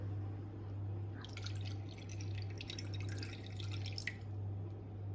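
Water poured into a container and measured out for cold-process soap making, a soft trickling drip that runs steadily for several seconds at close range over a low constant hum.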